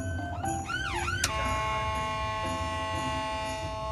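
A loud ambulance siren wails in fast rising and falling sweeps, then settles into a steady blaring tone over rumbling traffic noise.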